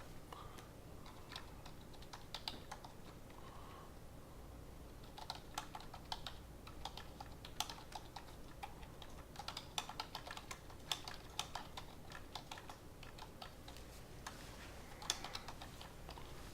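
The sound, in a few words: typing on a computer keyboard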